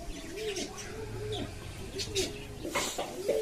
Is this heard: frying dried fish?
no